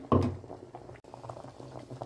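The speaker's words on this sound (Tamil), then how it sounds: "குழம்பு நல்லா கொதிச்சு வருது" A pot of dried-fish curry bubbling and simmering up close, soft popping and gurgling with a brief clatter at the start.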